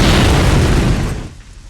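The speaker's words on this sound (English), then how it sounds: "In the form of an explosion." A loud, dense explosion from the video game Resident Evil: Code Veronica fills the moment with broadband roar, then decays into a rumbling tail over under two seconds.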